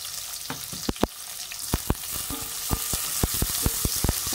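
Onion and ginger fry in a pan for adobong takway, a steady loud sizzle broken by sharp pops and spatters throughout, with no voices.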